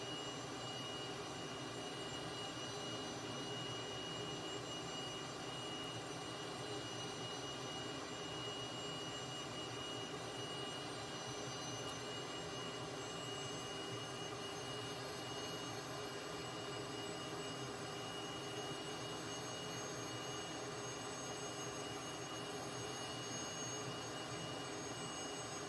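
Steady, unbroken jet engine roar heard from inside a Cessna T-37B in flight, a constant wideband rush and whine with no breaks for the whole stretch.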